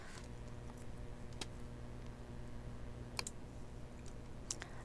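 Computer keyboard keys are pressed for editing shortcuts, a few sharp isolated clicks spaced seconds apart over a steady low hum, faint and close.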